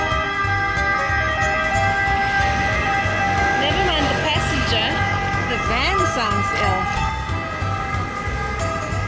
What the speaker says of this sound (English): The ambulances here just sound so strange.